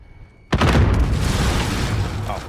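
A grenade blast in Call of Duty: Modern Warfare hits loud and sudden after a quiet moment, then rolls into a sustained rumbling tail with debris and echo lasting a couple of seconds.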